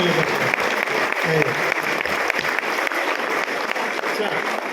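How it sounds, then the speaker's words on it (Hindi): Dense, continuous applause from a large audience at a comic poetry event in Lucknow, steady and loud throughout with no pauses. "आइए, जोरदार तालियां"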